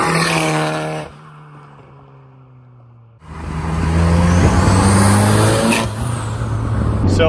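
A big-turbo 550 whp Saab 9-5 runs loud and steady with a strong tonal whine, drops to a quieter idle for about two seconds, then surges back under throttle as the wastegate opens with a rising hiss.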